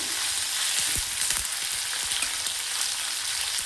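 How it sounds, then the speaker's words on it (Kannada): Onions fry with dry red chillies in a pan for bisi bele bath, giving a steady close sizzle with soft scraping and knocks from stirring. "ಹಾಗೆ ಈರುಳ್ಳಿ ಹಾಕಿ ಚೆನ್ನಾಗಿ ಮಿಕ್ಸ್ ಮಾಡ್ಕೋಬೇಕು."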